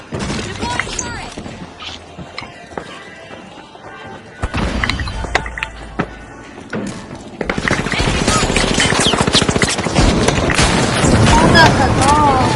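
An automated turret fires bursts of gunfire in The Finals amid a noisy arena fight, with sustained rapid shots and impacts growing denser toward the end; voices talk over the action throughout.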